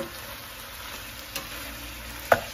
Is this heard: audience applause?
no